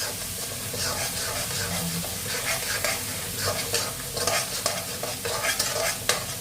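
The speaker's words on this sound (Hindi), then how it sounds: "कड़ी बनाने का एक सबसे बेसिक ये तरीका है, बस एक ही तरफ से चलाना है।" Awadhi fulauri kadhi with turmeric is stirred in one direction in a pan, the spoon scraping steadily over a constant bubbling sizzle, close and continuous with no talk.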